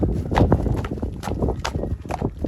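Hooves of a working draft horse pair, a five-year-old PKZ stallion and an Ardennes mare, clopping in a close, steady, uneven rhythm with a few louder strikes and no talk over them.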